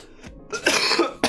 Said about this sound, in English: I suddenly had to cough real bad.